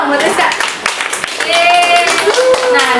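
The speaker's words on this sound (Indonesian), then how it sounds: "Tepuk tangan dulu dong buat Rizka." Classroom applause after a soap-making demonstration: a short burst of many hands clapping together, loud and close, with voices chattering and calling out over it.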